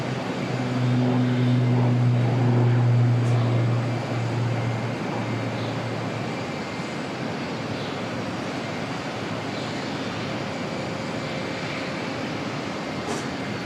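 Air New Zealand NZ547 airliner starting its engines at Auckland Airport, a broad steady roar with a low droning hum early on, heard from a distance without talk.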